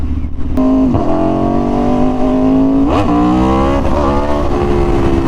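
An Aprilia RSV4 Factory sport motorcycle's engine drones loud and close at steady revs, with brief dips and surges in pitch as the throttle shifts.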